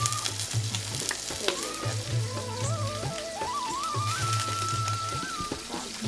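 Garlic paste fries with spices in a hot pan in a Bengali chicken dish with Malabar spinach and small potatoes, giving a steady crackling sizzle with stirring scrapes, while music plays over it.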